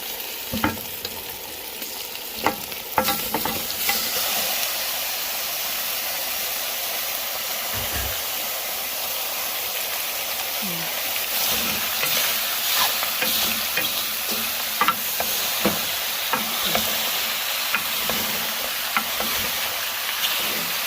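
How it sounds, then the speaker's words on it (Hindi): Washed market mutton is added to a hot pan for mutton karahi and fried, giving a loud, steady sizzle and hiss with intermittent scraping and stirring clatters throughout. "ये मटन है, मार्केट से ला के इसको मैंने वॉश कर लिया। अब इसको हम ऐड कर देंगे।"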